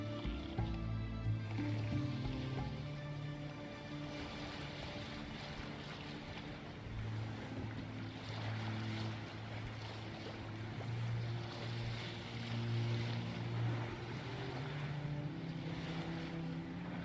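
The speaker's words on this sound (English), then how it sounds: "There's a boat here." A small boat sails across open water in The Witcher 3, with soft splashing waves and wind over a low, steady hum that swells and fades gently throughout.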